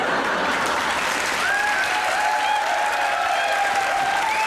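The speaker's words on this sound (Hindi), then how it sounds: "वेल डन, ताली होनी चाहिए यार।" Studio audience at a comedy talk show bursting into dense, sustained applause, loud and close, a continuous roar of clapping with faint whistles and cheers threaded through.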